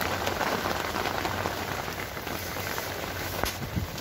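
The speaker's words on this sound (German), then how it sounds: "Und draußen ist jetzt richtig Wind. Es regnet auch richtig schön." Heavy rain falls outside in windy weather, a steady dense patter and hiss that holds evenly throughout with no one speaking.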